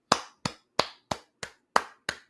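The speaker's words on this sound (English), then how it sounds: "I have to do the applause button" A button sets off an applause sound effect, seven separate sharp claps evenly spaced at a slow, steady beat, crisp and close, with no talk.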